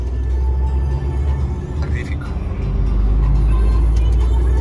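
A KAMAZ truck rolls along a road in heavy traffic, its deep steady engine rumble filling the cab continuously and loud, with faint higher noise from the road.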